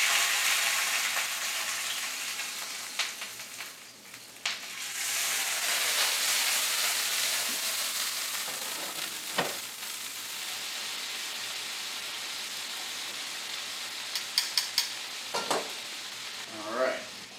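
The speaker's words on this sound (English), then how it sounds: "Now you have moisture in shrimp, so they are going to pop just a little bit." Shrimp frying in hot oil in a pan for shrimp tacos, a loud, continuous sizzle with scattered sharp pops and occasional stirring scrapes, close by and without talk.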